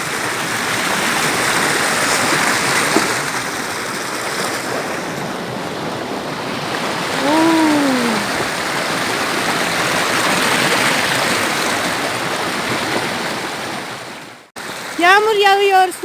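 A stream rushes in a steady, loud wash of flowing water outdoors, with brief chirps of a bird cutting through near the middle and again at the end after a short break.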